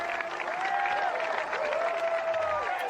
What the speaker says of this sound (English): non-stop applause.